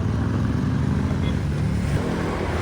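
Motorcycle engine idling just after being switched on, a steady low rumble with a faint rhythmic throb, close by and continuous, with no clear talk over it.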